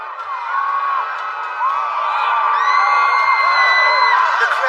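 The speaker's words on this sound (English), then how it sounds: "I love your enthusiastic cheers!" An arena crowd whoops and cheers loudly and continuously, many overlapping voices rising and swelling together at close range.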